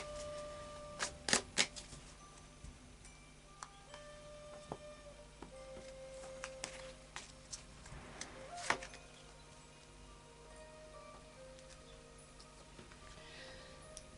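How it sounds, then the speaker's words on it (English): Quiet, crisp riffling of tarot cards being shuffled in short bursts, with a few sharp taps and snaps early on, close by over a faint steady hum. "Just a final shuffle here."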